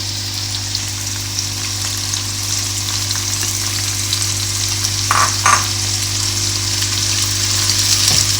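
Onions sizzling and frying with potatoes in a pot for vegetable biryani, a steady close hiss with a low hum beneath and a couple of brief stirring scrapes midway.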